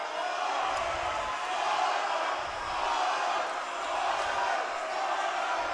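Loud, rowdy crowd noise fills a high school varsity basketball gym, a continuous roar of shouting and cheering from both teams' supporters, rising and falling slightly in waves with occasional whoops.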